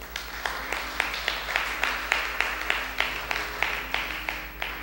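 A church congregation claps in a steady, even rhythm, about three claps per second, with low background murmur.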